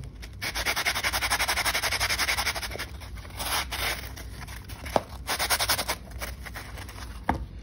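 A fiber laser engraved coin is polished by hand, giving rhythmic close rubbing strokes in bursts with short pauses and a couple of sharp clicks.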